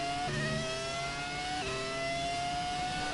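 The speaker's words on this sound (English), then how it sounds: "Now listen to that engine." Formula 1 car engine in the F1 2017 racing game, a high-pitched whine revving up and dropping through gear shifts, loud and continuous with no talk.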